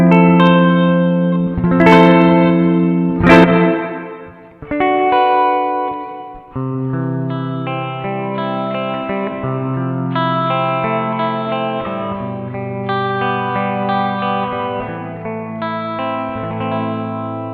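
Strymon BlueSky reverb pedal in room mode on a guitar, sustained chords and single notes ringing out with a spacious, lingering tail, steady and fairly loud with no talking.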